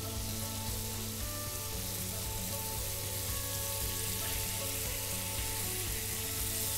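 Cheese-filled reindeer meatballs frying in a pan, a loud, continuous close-up sizzle with a steady hum behind it and no talking.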